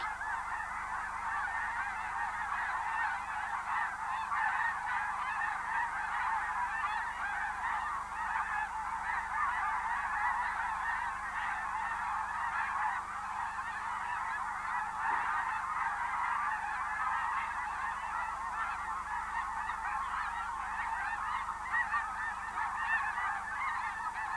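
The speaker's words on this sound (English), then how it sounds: "The airborne birds fly in to join an equal number of geese already landed on the lake." A large flock of geese honks continuously on a lake, a dense chorus of overlapping calls carrying across open water at a steady level.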